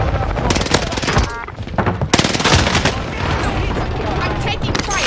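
Rapid automatic gunfire in a first-person shooter video game, loud and dense with bursts of rattling shots and a brief lull, continuous for several seconds with a player's voice mixed in.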